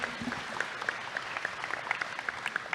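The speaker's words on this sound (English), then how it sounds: "Let's thank Carrie with a round of problem. applause" Faint, distant applause from a graduate student orientation audience, a soft patter of claps with a few sharper individual claps standing out.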